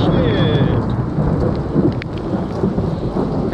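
Thunder rumbles through a real rainstorm outdoors, a broad steady roar of rain and low rolling thunder filling the whole stretch at close, loud level with no speech.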